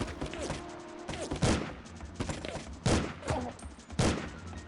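Gunfire in the N64 shooter 007: The World Is Not Enough, a series of separate sharp shots and thuds spaced a second or so apart, fairly quiet and mixed with game effects.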